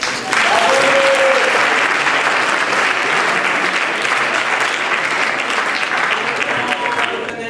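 Loud, sustained applause from a theatre audience greets the youth troupe of the Trinité parish in Paris's 9th arrondissement at a 2013 staging of a Feydeau comedy, beginning abruptly and holding steady with a faint murmur of the crowd.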